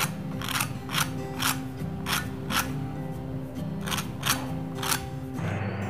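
Crispy fried semolina medu vada being bitten or broken in rapid crunchy bursts, about eight or nine sharp crackles over a steady low background hum, close and clear with no talking.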